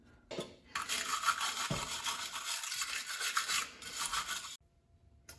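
Rust is scrubbed off the rear spring perch surfaces of a Mustang with a bright, gritty rasping in steady back-and-forth strokes, fairly close and continuous for several seconds before stopping abruptly.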